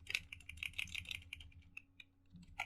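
Computer keyboard typing while deleting code, quick quiet clicking keystrokes in a rapid run with a low steady hum underneath.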